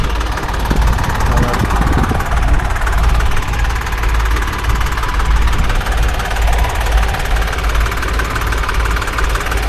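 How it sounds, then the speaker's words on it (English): A big International 1060 tractor engine runs steadily close by at a ploughing championship, a loud low throbbing rumble with a knocking mechanical clatter and no pauses. "Nice tractor. International, she's a big international."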